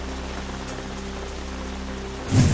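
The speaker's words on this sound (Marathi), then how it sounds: "जळगावच्या मुक्ताईनगरमध्ये विजांच्या कडकडाटासह मुसळधार पावसाची हजेरी" Heavy rain falls in Muktainagar, Jalgaon, during a thunderstorm, a constant dense hiss with a low thunder rumble swelling near the end.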